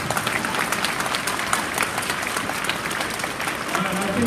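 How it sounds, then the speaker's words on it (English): An audience at a school event honoring a football team applauds steadily, a dense, even wash of clapping from a crowd filling the room throughout. "give these guys another big round of applause"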